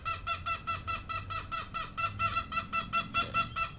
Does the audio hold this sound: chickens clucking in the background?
yes